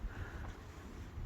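Wind blows steadily outdoors at a campground, rumbling low and buffeting the microphone at a faint level with no other sounds.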